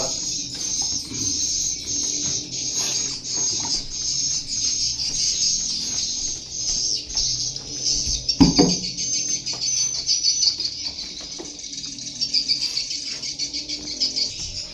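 Dense, high chirping of swiftlets fills the inside of a swiftlet house, a steady wash of overlapping calls with a brief louder thump partway through.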